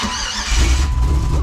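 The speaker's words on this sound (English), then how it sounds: "I'm gonna start it back up again and give it a rev or two." A Jeep with a swapped LS V8 cranks with a squealing whine, then catches and roars into a loud, rough rev, close up and filling the space.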